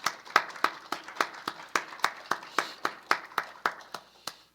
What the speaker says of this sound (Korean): 감사의 박수를 한번 드리겠습니다.